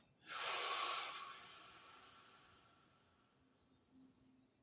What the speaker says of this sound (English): Breathing in through your mouth.